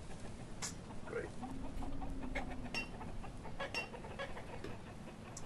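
A crowd of chickens clucks in the village-building game Banished, with scattered short clucks and squawks repeating irregularly at a soft, moderate distance over a low game ambience.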